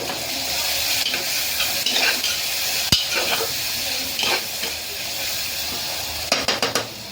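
Turmeric and salt are stirred into a pressure-cooker pot of cluster beans and dough pieces, sizzling steadily while a spoon scrapes, with a sharp clink and a few quick taps near the end.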